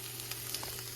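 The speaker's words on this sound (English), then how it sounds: "red peppers, yellow peppers, and onions, just kind of sauteing here in the pan" Red peppers, yellow peppers and onions sautéing in a pan make a soft, steady sizzle, close by and quiet, with no one speaking.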